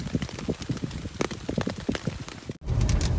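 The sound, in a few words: rain falling while camping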